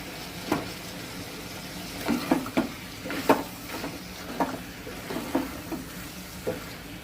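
Mutton curry being stirred in a pot after chilli powder goes in, with a steady low sizzle of frying and about a dozen short scraping clinks of the spoon against the pot, close and moderately loud.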